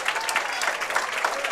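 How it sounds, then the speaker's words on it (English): A crowd at a high school bowling state finals applauds steadily, a dense, even patter of clapping throughout the short stretch. "the crowd gives her a nice round of applause"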